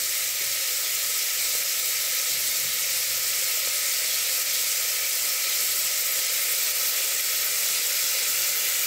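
Ginger garlic paste frying in a hot pan for mealmaker curry, a loud, even sizzle and hiss that holds steady and close for the whole stretch, with no voices.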